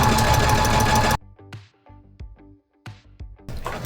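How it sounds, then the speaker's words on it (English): A sewing machine stitching felt fabric runs in a steady mechanical whir, then cuts off, followed by scattered close thumps and light handling sounds before the motor starts up again. "you're just gonna pick up your presser foot, turn your fabric, and put your presser foot back down and continue to sew"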